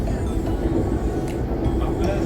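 A Delhi Metro train runs at night, heard as a steady, fairly loud low rumble with a faint hiss throughout, without voices.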